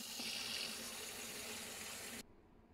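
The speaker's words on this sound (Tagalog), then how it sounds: "Ito siya, hugasan natin ng malamig na tubig." Cold tap water runs steadily into a sink to rinse small oysters, a continuous broadband splash heard up close that cuts off abruptly near the end, leaving quiet room tone.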